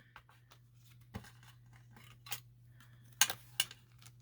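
Scissors snip through paper while tags are being made, giving a few faint, crisp cuts and small clicks spread across a quiet room.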